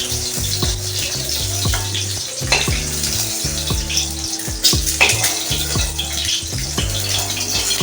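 Fried eggs come out of hot oil in a kitchen pan, with a steady background sizzle under repeated close metallic scrapes and taps from a utensil at an irregular rhythm.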